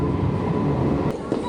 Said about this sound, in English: First, we take subway.